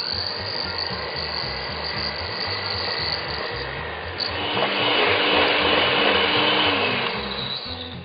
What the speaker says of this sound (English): Whisk the whole lot together.